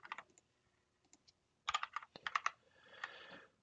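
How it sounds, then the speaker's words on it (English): Keys on a new computer keyboard clack in quick, crisp bursts: a few scattered taps, then a dense flurry of close, sharp keystrokes and a softer run at the end, with no voices. "I have a new keyboard and I'm really not getting used to it."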